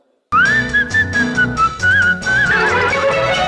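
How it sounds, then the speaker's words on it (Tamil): Whistled melody opens a Tamil film song, a bright sustained tune gliding and warbling over orchestral accompaniment, loud and continuous after a brief silence. "ஆரம்பத்துல அந்த விசில் சவுண்ட் நல்லா இருக்கும்"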